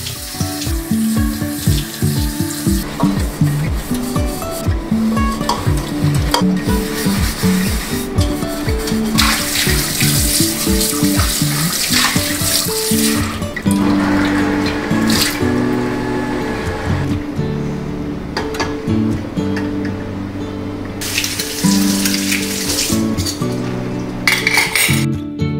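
A small brush scrubs dishes under a running kitchen tap, with steady splashing water, rhythmic brushing strokes early on and scattered clinks of dishes nearby, with no talking.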